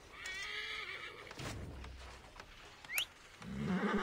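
A horse in the video game Assassin's Creed Origins whinnies loudly near the start and snorts again at the end, with faint clip-clop hooves and ambient game sounds between.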